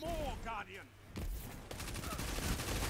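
Video game gunfire in the New City map, heard as bursts of rapid shots and crackling fusillades mixed with game sound effects and a voice in the background.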